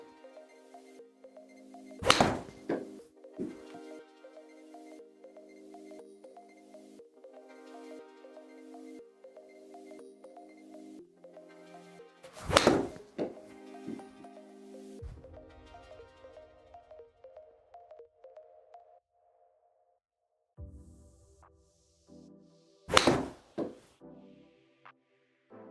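Three sharp, crisp strikes of golf balls hit with a Titleist Vokey wedge, spaced about ten seconds apart, each a loud close impact followed by quiet outdoor background with faint tonal sounds.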